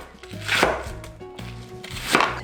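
Two bursts of a knife chopping vegetables on a cutting board in a home kitchen, each a quick run of close, crisp taps. No one speaks.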